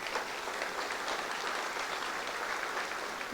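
A rally crowd at a Cape Town solidarity gathering claps in a dense, steady roar of hands, close and loud, holding even for a few seconds with no talk over it.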